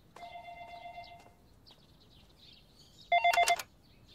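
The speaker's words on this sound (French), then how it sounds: "Je vais répondre au téléphone." A telephone rings in two bursts, a longer trilling electronic ring followed after a pause by a louder, rapid ringing burst, with faint room sound in between.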